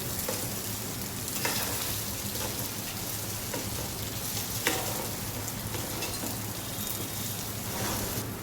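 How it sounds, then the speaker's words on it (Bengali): Rice for Gondhoraj Basanti pulao fries and is stirred in a pan, giving a dense, continuous sizzle with occasional scraping spoon strokes, close and steady, with no talk. "চালটা আমরা লাল লাল করে ভালো করে ভেজে নেব"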